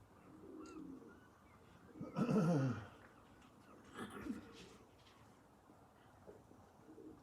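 Pigeons give two short, soft coos a couple of seconds apart, the first fuller and the second briefer, over a quiet outdoor background.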